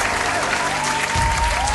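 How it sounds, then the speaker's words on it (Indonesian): Steady, dense applause from an audience at a comedy sketch ceremony, close and loud, continuing without a break. "Kasih tepuk tangan dulu dong."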